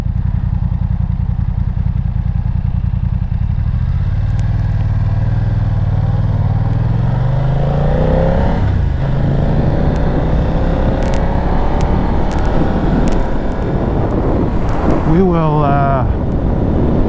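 A BMW F900R motorcycle with some miles on its engine is ridden at modest revs; the engine note climbs and drops through gear changes beneath steady loud wind buffeting, close to the rider.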